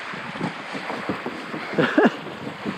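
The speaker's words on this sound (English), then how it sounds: "the wind is gusting. It's whipping over." Gusting wind buffets the mic over a cold, misty lake during a paddling adventure race, a steady rushing roar with brief stronger gusts and no talk.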